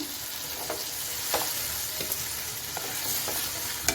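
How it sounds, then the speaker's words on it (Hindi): Chicken chow mein noodles with sauce are stirred in a pan over steady background sizzling, with soft scraping and light spatula taps recurring at irregular intervals. "तो अब हम इन सबको अच्छी तरह से जो है वो मिक्स करते हैं"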